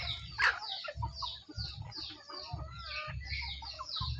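Multi-coloured free-range country hens cluck together in a farm yard, with one sharper squawk near the start and continuous overlapping clucks throughout, no talking.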